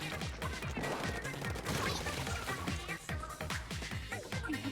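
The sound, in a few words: cannon firing in Splatoon 2 video game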